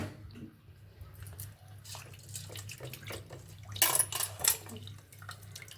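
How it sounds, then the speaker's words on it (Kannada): Drinking water is poured from a vessel onto soaking rice for avalakki in a home kitchen, giving soft splashing and trickling with a few louder splashes near the end. "ಇವಾಗ ಬೇರೆ ನಾನು ಕುಡಿಯೋ ನೀರನ್ನು ಹಾಕ್ಕೊಳ್ತಾ ಇದ್ದೀನಿ ಇದಕ್ಕೆ"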